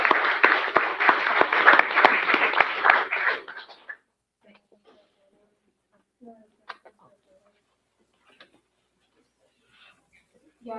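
Applause at a city council meeting, a loud burst of clapping that lasts about four seconds and then dies away, followed by near silence broken only by scattered faint clicks and small noises.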